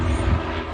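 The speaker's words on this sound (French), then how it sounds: "Nous voyons les avions atterrir entre les deux maisons, les deux toits." A light airplane landing near the Aix aerodrome, a steady, fairly loud engine drone with a low rumble, heard between two houses with no one talking.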